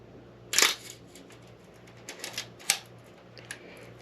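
Old film camera shutter set to 1/30 second, fired several times in a row: one loud close snap, then a scattering of lighter clicks and a second sharp click, with quiet hum between.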